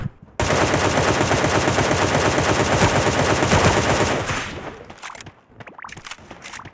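Rapid automatic gunfire from a video game rattles loud and continuous for about four seconds, then tapers into scattered shots and impacts.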